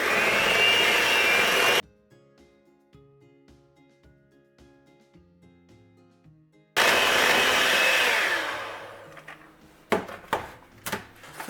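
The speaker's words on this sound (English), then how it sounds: "Now we're going to get this well blended together." An electric mixer blends cake batter with orange juice for a Greek New Year's cake. It whirs loudly, stops for several seconds while quiet clinks are heard, runs again, then winds down into scattered knocks.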